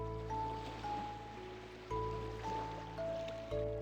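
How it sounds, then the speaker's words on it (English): An Ocean Waves music disc plays in a Minecraft-style video game, soft sustained synth tones shifting between notes over a low hum and a faint watery wash, quiet and without voices. "I can still hear that Ocean Waves music disc"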